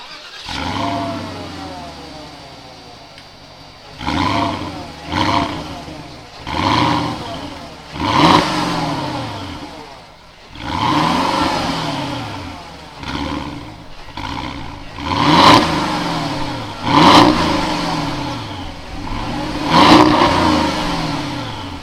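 Porsche Cayenne Turbo being revved repeatedly, a series of about nine loud, close engine blips rising and falling in pitch with short gaps between them, and no talk.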